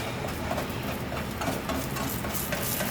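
A spatula scrapes the sides of a pan of cooking egg omelette, a continuous close rasp and soft scraping over a gentle sizzle with no talk.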